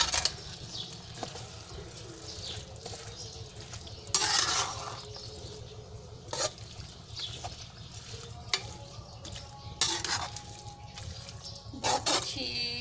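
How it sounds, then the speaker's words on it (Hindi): Potatoes frying with fenugreek leaves in a pan, a continuous soft sizzle under repeated scraping and stirring strokes of a spoon, with a few louder clatters against the pan. "आलू के साथ इसको थोड़ा भूनेंगे"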